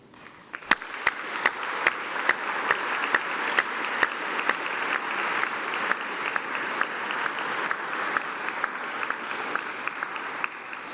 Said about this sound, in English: let's give a round of applause and a massive cheer to say thank you to all your supporters